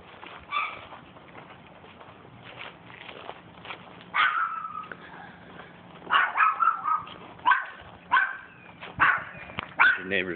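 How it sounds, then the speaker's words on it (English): A neighbor's dog barks beyond a fenced-in backyard, a run of sharp repeated barks in uneven bursts that grow more frequent toward the end, heard at moderate distance. "Neighbor's dog."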